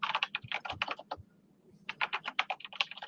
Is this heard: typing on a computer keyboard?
yes